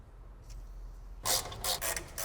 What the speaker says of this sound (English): what do you say we take this middle silencer off and see if we can find that hole?